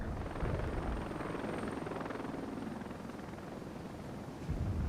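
An Mi-24 attack helicopter in the real-time strategy game Regiments, its dense rotor and engine roar running loud and steady throughout with no pauses.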